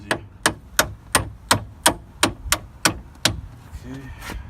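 A hammer strikes a 2009-2012 Ford Escape 2.5 front wheel bearing in about ten sharp metallic blows at a steady, quick rhythm, close and loud, followed by a brief murmur of voice.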